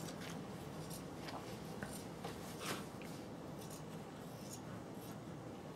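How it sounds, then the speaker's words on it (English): Scissors trimming a fabric seam back to the binding on a sewing project, a series of quiet, crisp snips and slides at close range over a soft background hiss. "I'm going to trim that seam back to my fabric"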